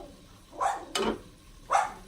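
A dog gives three barks at a moderate distance, spaced about a second apart, over a low background hum.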